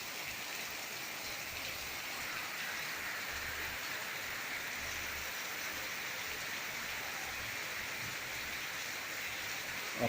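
Steady, calm rain falls on a rural farm property on a Sunday afternoon, a continuous even hiss of drops without voices, moderately quiet and uninterrupted.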